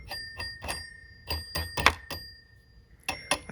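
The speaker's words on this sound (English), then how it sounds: "There's the bells." Metal ringer bells of a 1984 Siemens Masterset 113 telephone, made in Argentina, are struck in about ten quick, irregular taps. Each gives a bright, ringing ding, close and fairly quiet, with a short pause before a final cluster.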